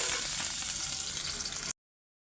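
Two bay leaves and onion hitting hot oil give a bright, steady sizzle and crackle close by, alone for under two seconds before cutting off abruptly.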